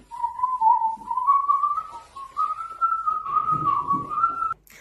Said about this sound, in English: he'll just whistle and start dancing